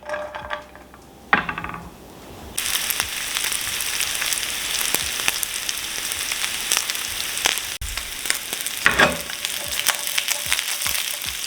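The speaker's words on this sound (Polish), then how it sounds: "Na patelni odrobina oleju, wrzucamy kiełbachę i podsmażamy do zarumienienia." Steady, crackling sizzle of kielbasa sausage frying in a little oil in a pan until browned, with a few clinks of utensils at the start and no talking.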